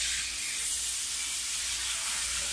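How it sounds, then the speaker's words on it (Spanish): Constant bright hissing sizzle of fish frying in a hot pan, oil spitting steadily and unbroken for the whole stretch. "mi papá friendo el pescado"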